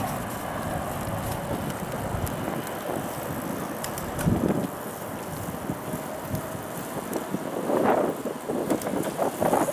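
Bicycle ridden along a bayou in Houston after Hurricane Harvey, with steady wind noise and faint chain and tire whir throughout, a few louder bumps and rattles near the middle and end, no talking.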